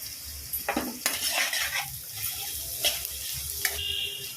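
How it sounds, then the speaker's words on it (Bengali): Chopped onions with salt and turmeric fry in a pan while a utensil scrapes and clinks against the metal, with soft sizzling beneath a few sharp stirring strokes, close and fairly quiet. "লবণ আর হলুদটা দিয়ে এবার আমি পেঁয়াজটাকে ভালো করে ভাজা ভাজা করে নেব"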